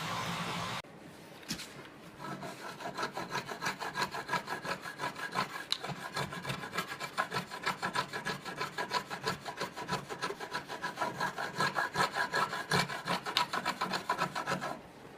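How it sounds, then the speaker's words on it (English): Steady rhythmic scraping of a chisel paring a half lap joint in a wooden worktop, quick repeated strokes rasping close by over about fifteen seconds. "I've just come in here with a chisel now and just cleaned that up"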